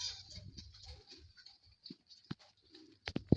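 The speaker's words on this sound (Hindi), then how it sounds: "हमारे ना कबूतर ना दाना खा रहे हैं।" Pigeons pecking at millet grain nearby, soft cooing mixed with light pattering taps and a few sharper pecks, fairly quiet and close, with no talking.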